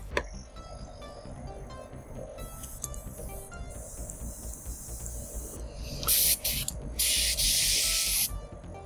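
Airbrush spraying acrylic paint, short bursts of sharp airy hiss up close over a low steady background hum, the loudest bursts near the end.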